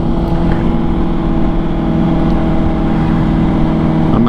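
A Honda CBR600RR motorcycle engine running close and loud, a steady droning hum with slight revving swells held throughout, no voices over it.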